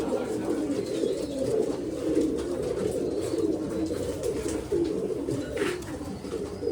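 Pigeons cooing steadily at a pigeon sale in Bangalore, a continuous low warbling chorus from several birds close by, with faint voices in the background.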